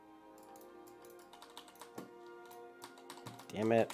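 Computer keyboard typing during a World of Warcraft Classic session, a steady run of quiet clicks and taps with game sounds underneath and a brief burst of voice near the end.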